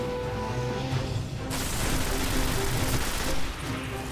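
Destiny video game combat with a grenade explosion: a loud, sustained blast of noisy rumble that swells midway amid ongoing gunfire and battle din, with someone talking over it.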